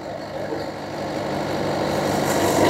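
A tractor-driven machine for extracting wet and dry paddy runs steadily in a field, giving a continuous low engine drone that grows slightly louder over a few seconds, with no talk.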